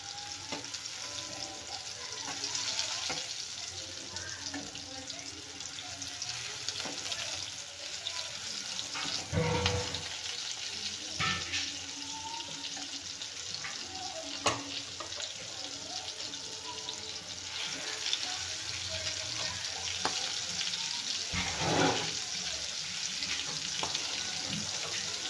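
Prawns frying in a kadhai give a steady soft sizzle throughout, faint and continuous, with occasional brief clinks and scrapes of a utensil.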